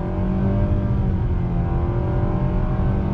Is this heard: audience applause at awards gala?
no